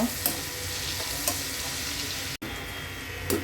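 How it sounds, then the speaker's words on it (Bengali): Raisins and nuts fry in butter in a pan, a steady close sizzle with soft stirring scrapes and a few light clicks, broken by one very brief dropout. "বাটারের মধ্যে কিশমিশ দিয়েছি, বাকি বাদামগুলো দিয়ে দিলাম, ভেজে নিব।"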